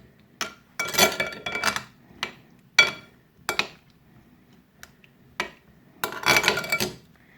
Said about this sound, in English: Give it all a really good mix